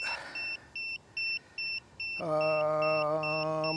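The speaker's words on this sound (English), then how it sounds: "I'm hoping this will stop the beeping." A DJI Inspire 2 drone remote controller gives a series of short, evenly spaced high electronic beeps, about five in a row, then a steady sustained tone with several harmonics holds to the end.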